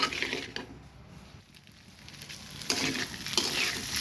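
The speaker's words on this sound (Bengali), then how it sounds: "মশলাটা দিয়ে সুন্দর করে ভেজে নিয়েছি" Ground spices (chaat masala, turmeric, cumin and chili powder) sizzle steadily in hot oil for a pabda fish curry with potato and pointed gourd, with soft stirring scrapes over a close, continuous frying hiss.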